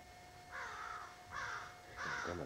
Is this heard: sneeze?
no